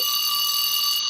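Alarm tone on a OnePlus 2 Lite phone, playing as a loud, steady, high-pitched electronic beep that holds continuously, close and alone, without any voices.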